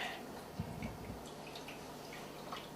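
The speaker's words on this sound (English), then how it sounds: "the water that drains out" Hot water drips and trickles out of cannabutter twisted in cheesecloth, a faint, steady patter of drops and light splashing close by, with no voices.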